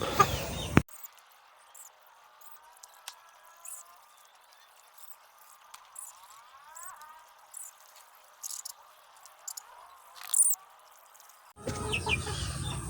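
Chickens cluck softly and intermittently at a distance, with scattered faint bird calls, framed by brief bursts of louder noise at the start and end.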